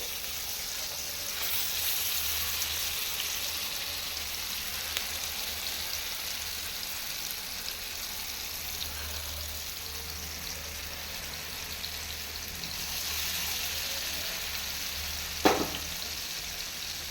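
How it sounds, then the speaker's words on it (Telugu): Masala-coated fish pieces for fish biryani shallow-fry in hot oil, a steady broadband sizzle that holds throughout, close and even, with a brief clink near the end and no voices. "ఈ మసాలా పట్టిన పీస్ అన్నిటినీ ఒక్కొక్కటిగా వీటిలో వేయించుకోవాలి"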